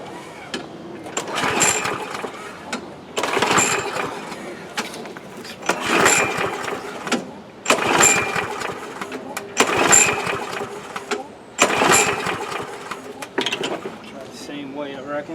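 A 2005 Murray Quantum 6.5 lawn mower engine, fitted with a swapped carburetor, is cranked about six times in rhythmic pull-start bursts that sputter without catching, heard up close.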